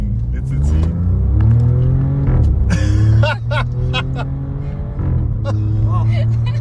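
A modified VW Polo with an aftermarket exhaust rumbles with a deep, steady idle and short revs, up close and loud, while people talk over it.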